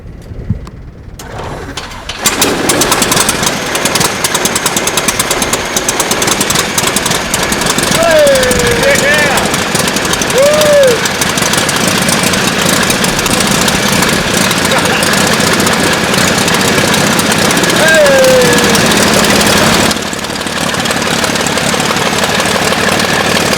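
A propeller aircraft engine cranks and catches after about two seconds, then runs loud and steady at idle with a rough, pulsing drone while people talk over it, easing slightly toward the end.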